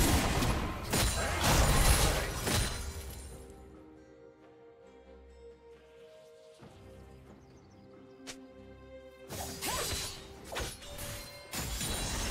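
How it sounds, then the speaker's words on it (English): A League of Legends turret being destroyed, with loud crashing and shattering bursts at the start, a quieter stretch of tonal effects in the middle, and more sharp impacts near the end. "Blue team's turret has been destroyed."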